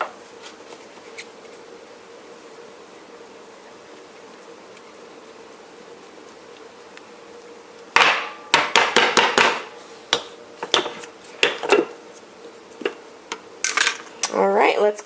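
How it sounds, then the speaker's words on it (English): A plastic lid snaps onto a container of flour, baking powder and salt, then the dry ingredients are shaken in loud, irregular rattling bursts after a quiet stretch. "I'm gonna snap my lid on and shake it up."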